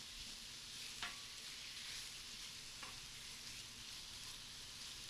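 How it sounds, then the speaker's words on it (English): Chicken stir fry sizzles steadily on a Blackstone gas griddle outdoors, a soft continuous frying hiss with a couple of brief sharp ticks of a utensil against the hot surface. "Just gets a little sizzle going."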